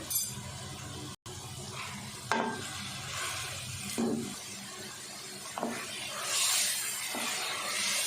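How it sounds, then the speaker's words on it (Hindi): Chicken fried with turmeric, salt and red chili powder in a pan for chicken palak, a continuous sizzle with a brief cutout and intermittent stirring scrapes, close by, no voices. "मसाले को भी 2 से 3 मिनट अच्छे से चिकन के साथ फ्राई कर लिए"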